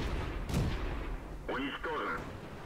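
The Tetrarch gun fires in a video game, a couple of sharp booming shots with echoing tails. Game effects follow, and someone talks over part of it.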